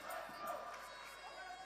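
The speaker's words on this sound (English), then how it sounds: "Very noisy crowd for this one" Noisy crowd at a Scottish national age group swimming championship, a steady indoor wash of chatter, shouts and cheering with no single voice standing out.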